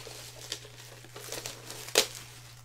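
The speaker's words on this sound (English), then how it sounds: "quickly get through the bubble wrap a moment" Bubble wrap packaging is crinkled and pulled off a subscription unboxing package, a soft continuous rustle with a sharper crackle near the end, fairly quiet, over a steady low hum.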